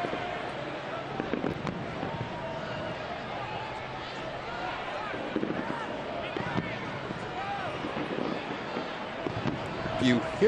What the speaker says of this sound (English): There's a street festival going on and fireworks going off here downtown St. Petersburg.